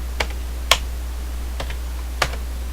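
Isolated keypresses on a computer keyboard during a Fallout 3 session, four or five sharp clicks spaced irregularly over a steady low hum, with no talking.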